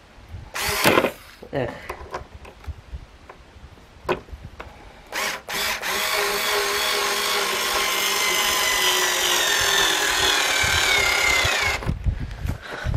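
A Kawasaki cordless drill drives a screw into wood, first a few short bursts and knocks, then a sustained whirring run of several seconds that stops abruptly, with a brief spoken exclamation early on.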